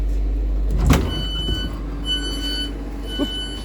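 Train doors at Gatley station open with a sharp pneumatic hiss and thump, followed by a steady high warning beep tone and a low engine rumble beneath.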